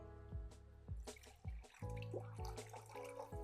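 Liquid is poured into a pot of low carb Zuppa Toscana soup, giving a series of close splashes and drips that land in quick, uneven bursts.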